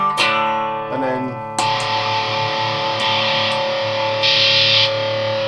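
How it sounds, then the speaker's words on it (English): An electric guitar runs through a fuzz pedal with the distortion raised, giving thick, buzzing sustained chords with several fresh strums and a brighter, harsher burst near the end. "That's the distortion up a wee bit higher."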